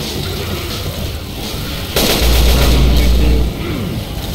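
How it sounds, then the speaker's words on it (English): Mounted machine gun fired during a Left 4 Dead 2 survival round on the Port map, a dense, booming continuous roar that swells loudly midway and then eases back, with game noise throughout. "I'm gonna grab the machine gun."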